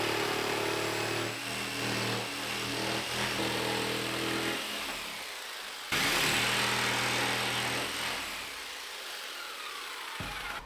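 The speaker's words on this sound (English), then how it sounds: "I'm gonna use a jigsaw for this." A jigsaw cuts notches into a plywood shelf piece in a workshop, buzzing loudly in two long passes separated by a short break, with its pitch shifting as the blade works through the wood.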